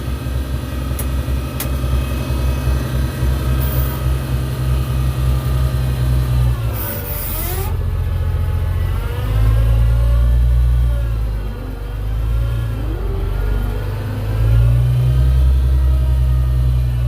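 An International 756 tractor that sat unused for two years runs with a steady low diesel idle, with a few revs rising and falling and some clanks early on.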